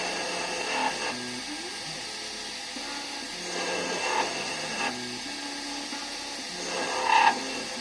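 An Emco Compact 5 CNC lathe cuts metal in repeated passes, a whining machine hum with rising cutting tones and brief squeals, moderately close with no talk.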